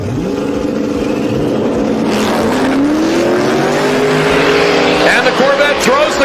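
A Corvette makes a full-throttle drag racing pass at Sick Week. The loud engine roar sweeps upward in pitch as the car accelerates down the strip, with tire and track noise mixed in.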